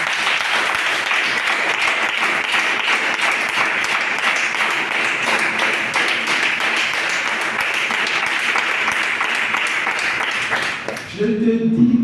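A congregation applauds at a Saturday praise and healing worship service at St Jean Baptiste. The clapping is loud, dense and sustained for about eleven seconds, then breaks off abruptly into a brief different sound.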